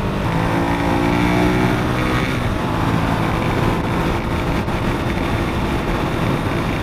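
A 2016 Ducati Monster 821 motorcycle being ridden, its engine a steady, loud, close drone with strong low rumble and wind noise throughout, no voices.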